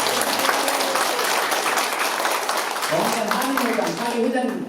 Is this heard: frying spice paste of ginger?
no